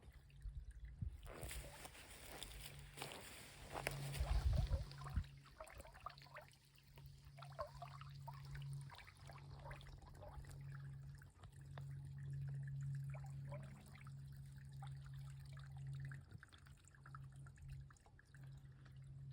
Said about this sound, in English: water flow.